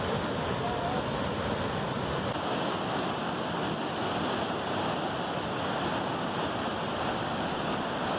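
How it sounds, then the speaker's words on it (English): Class 6 whitewater rapids on the Niagara River, a loud, continuous broadband roar of rushing water that stays steady throughout with no breaks. "These Class 6 rapids"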